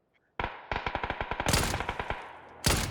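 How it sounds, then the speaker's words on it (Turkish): Rapid bursts of suppressed gunfire from a video game weapon, a fast clattering run of shots with a short pause and a final louder burst, heard alone and fairly close. "Bak susturucu da sıkıyorum bir de ona göre."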